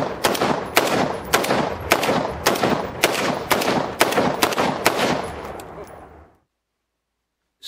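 SCAR 16S rifle firing a rapid string of about ten sharp, loud shots at a steady rhythm, each with a short echo, ending abruptly in silence.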